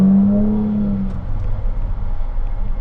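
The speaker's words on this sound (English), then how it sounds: "like the acceleration there, it feels much faster than it actually is, and it sounds much faster than it actually is" A 2017 Jaguar F-Type S convertible accelerating, heard close from inside, a loud engine tone that fades within about a second into a rougher rising rumble and road noise.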